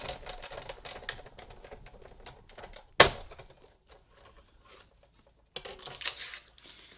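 A manual die-cutting machine cranking a die between cutting plates to cut a small paper treat bag, with a close rattling, clicking mechanical run, a sharp snap partway through, then a quieter pause and further clattering.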